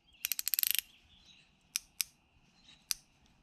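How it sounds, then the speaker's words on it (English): A General ratchet wrench clicks in a quick run of about ten crisp, close ticks, then gives a few isolated single clicks against a quiet background. "for example, which is a General wrench, okay? And you can tell, guys, you see how it clicks?"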